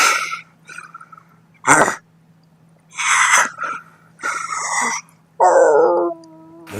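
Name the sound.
person imitating a dire wolf howl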